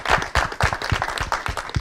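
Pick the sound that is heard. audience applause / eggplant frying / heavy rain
audience applause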